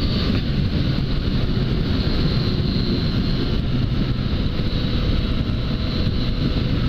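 A Yamaha MT-09 motorcycle with a sport exhaust gives a steady, deep, loud rumbling roar that holds evenly throughout, heard close with some wind noise.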